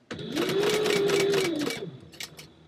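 A sewing machine stitches over the corners of a fabric book purse in one smooth motorized run, a steady whirring hum with a clattering needle rhythm that winds down near the end and is followed by a few faint clicks.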